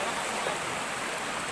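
River water flows at a crossing point, a soft continuous broadband rush heard faintly and steadily with no other distinct sounds.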